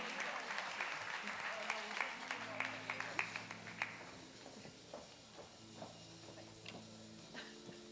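Audience applause welcoming a speaker from Jamaica National onto the stage at an event, dense clapping at first that thins into scattered claps, with a low hum and some voices underneath.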